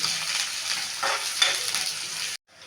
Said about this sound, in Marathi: आता आपण कांदा टाकून घेऊ. कांदा थोडा तळून दे.